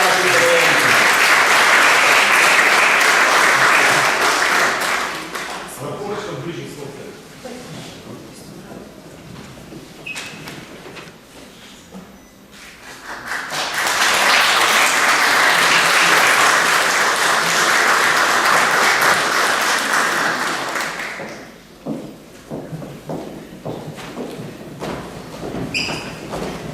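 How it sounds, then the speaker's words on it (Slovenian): Two long bursts of dense crowd applause for the sponsors at a photo contest awards ceremony in Domžale, each lasting several seconds and separated by a quieter gap with scattered sounds of the room. "Aplavz za vse sponzorje, ki so prišli do naših nagrajencev."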